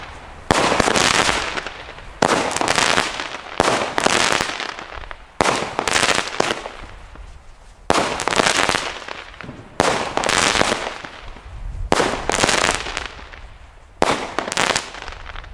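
Repeated sharp bursts from small breaking firework rockets, a Lesli Three Musketeers 3x9-shot set, crack one after another at a steady pace, each a loud pop followed by crackling decay, with no talking.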